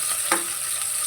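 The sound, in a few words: stirring sautéed onion and ginger in frying oil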